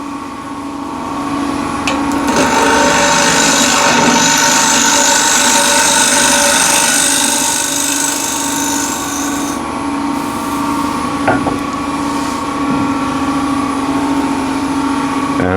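A wood lathe spinning at 1500 RPM while turning the top of a trinket box, with a steady motor hum and continuous rasping tool-on-wood cutting, loud and close throughout.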